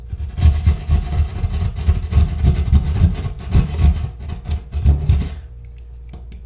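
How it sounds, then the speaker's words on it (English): A hand drywall saw rasps back and forth through a drywall panel while cutting away a patch opening, giving a close, steady run of scratchy strokes that stops near the end. "And the thing you want to use for that, what I mentioned earlier, is your drywall saw."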